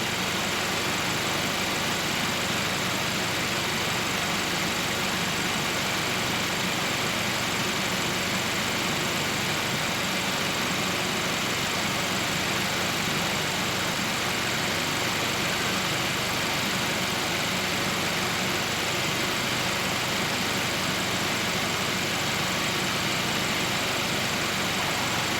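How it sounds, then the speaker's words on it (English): A car engine idles while its systems are tested in manual mode with a high-temperature sensor fault. A continuous, even engine hum with a steady drone runs unchanged for over twenty seconds, with no talk. "We can hear a little bit of a change in the tone from the engine"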